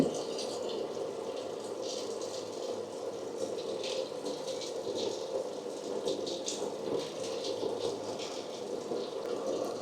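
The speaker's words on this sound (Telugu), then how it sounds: "ఇప్పుడైతే చూడొచ్చు వాటర్ అయితే వస్తున్నాయి అనమాట మనకి" Water rushes steadily into the drum of a Samsung 9kg Eco Bubble washing machine, a constant splashing hiss with light rattling throughout.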